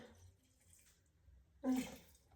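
Alcohol gurgles from a bottle into a jar of fresh motherwort leaves, a brief splashing pour after a quiet, faint lead-in, close and without talk.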